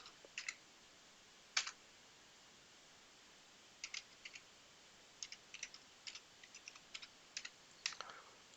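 Code is typed on a computer keyboard in scattered light clicks and short bursts of keystrokes, faint and close, with quiet gaps between them.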